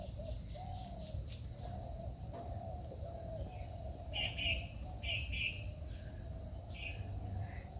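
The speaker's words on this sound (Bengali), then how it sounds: "কত সুন্দর কবুতর খয়েরি কালারের কবুতর তো আমি এর আগে দেখিনি" Pigeons, some brown-coloured, coo near a village temple, soft low repeated coos in a steady rhythm with a few brighter chirps from other birds, while a person talks over them.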